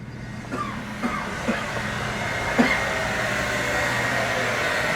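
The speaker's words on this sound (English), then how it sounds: "What's the noise? It's the hairdryer." A hair dryer runs steadily nearby as a constant mid-level whir, with a few faint clicks and bumps over it and no talking.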